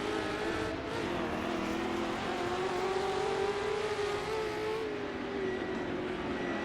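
Ford GT40 Mark 1 racing engine in the Assetto Corsa racing game, a steady loud drone holding high revs with a slight pitch rise and fall around a circuit, a brief gear change near the start and another shift late.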